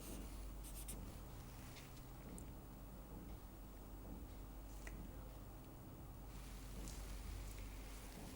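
Chalk or marker writing on a board during a university lecture, a steady scratchy scraping with short strokes and taps over a constant low room hum, no talking.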